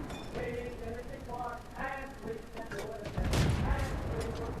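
Tank cannon shots ring out in World of Tanks, a few dull booms amid rumbling engine noise and battle sounds, with a voice talking over them.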